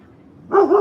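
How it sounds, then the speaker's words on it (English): A dog barks outdoors, a short burst of loud, close barking arriving after a quiet moment. "This dog's outside."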